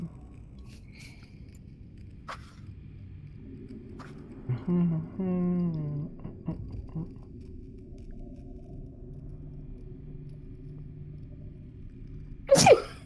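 A single sharp sneeze bursts out near the end, after a quiet stretch with soft rustling and brief murmured sounds.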